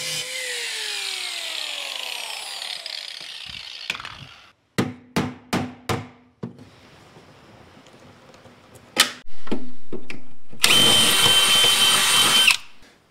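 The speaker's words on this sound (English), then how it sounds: "let's go ahead and get started on buzzing out that rivet" A power tool drills out a rivet on a Minn Kota Terrova trolling motor mount, with a whining spin-down, a series of short sharp bursts, and a final loud sustained grinding run, all close.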